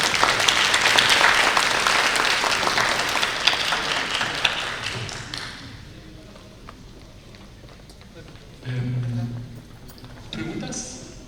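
An audience at a Peruvian agriculture ministry (MIDAGRI) panel breaks into loud sustained applause for the panelists, which fades after about five seconds into quieter room noise with some speech.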